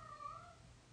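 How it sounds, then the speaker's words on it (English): A single short meow rises from the background over a steady low hum, fairly faint and brief. "that's my cat in the background, he wants to go outside"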